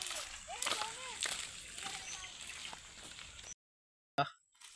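Monsoon stream water in the Konkan countryside flows with a steady washing splash beneath a voice talking nearby, then cuts to silence before a brief final splash.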